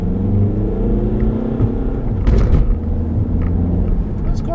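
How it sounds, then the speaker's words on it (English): A 2015 Audi A3 S line diesel turbo with S-Tronic gearbox accelerating, heard as a steady low engine drone and rising rumble from inside the cabin while someone talks over it. "Let's go for a little spin, shall we? And see what this S-Tronic in the diesel turbo is actually like."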